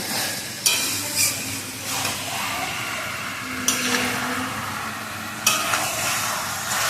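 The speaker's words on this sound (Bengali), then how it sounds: "শুকনো লঙ্কা গোলমরিচের সাথে পেঁয়াজকেও আমি পেস্ট করে নিয়েছিলাম এবার এটা ভালো করে কষাতে হবে" A paste of onion, dried red chilli and black pepper sautéing in a pan, a loud steady sizzle broken by repeated bursts of stirring every few seconds.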